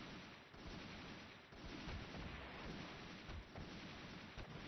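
Dense gunfire and artillery rumble from a real-time strategy game battle, a loud continuous wash of shots and booms with repeated sharp blasts and no speech.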